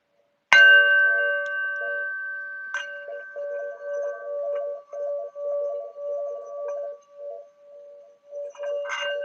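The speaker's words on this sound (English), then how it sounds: "I apologize my bell didn't work at first." A small bell rung during a meditative new-moon session gives a bright struck ding with a long shimmering decay, then is struck again a couple of times, ringing alone in a quiet room.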